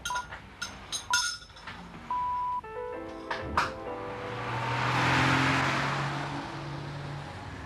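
A company car in 1986 sets off: a few metallic clinks and knocks come first, then the engine starts and pulls away in a swelling rumble that slowly fades.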